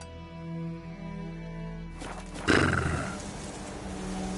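Roach, the horse in the video game Witcher 3, gives a loud whinny around the midpoint over a steady low game soundscape, with hoof clatter following as it breaks into a trot.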